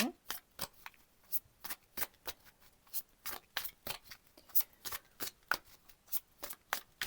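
Oracle cards being shuffled, a steady run of crisp riffling snaps about twice a second, close and fairly quiet, with no talking.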